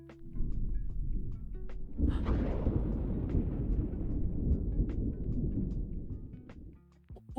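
Rumbling thunder from an ambient sound app rolls in with a sudden crack, then a long, deep, noisy roll that slowly fades over several seconds, moderately loud with faint clicks scattered on top.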